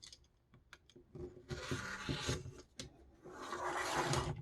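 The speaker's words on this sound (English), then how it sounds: "I'm going to grab my rotary cutter and do the last 2 swipes" A rotary cutter sliced through quilting fabric along a ruler in two firm swipes, each a soft, close rasping drag of about a second, separated by a short pause in an otherwise quiet room.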